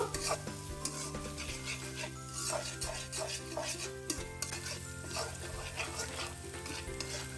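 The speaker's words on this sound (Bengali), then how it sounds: "ভালো মতো করে এক মিনিটের মতো নাড়াচাড়া দিব" Chopped garlic and onion fry in a pan while a utensil stirs them, giving a continuous close sizzle broken by repeated scraping and clinking strokes against the pan. The level is fairly quiet and there is no talking.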